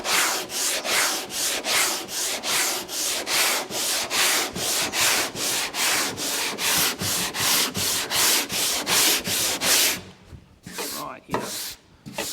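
Hand sanding across a primed panel, a steady run of rough rubbing strokes, close and loud, about two per second, then slowing to a few separate strokes at the end.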